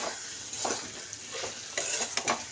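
Chicken masala is stirred into a curry with a few soft, rhythmic scrapes of a spoon through a thick, gently sizzling mixture. The sound is quiet and close, with no talking.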